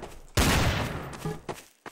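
Gunfire in the video game Trouble in Terrorist Town, in a casino map: a sudden loud burst of shots that rings out and decays, followed by a couple of fainter shots.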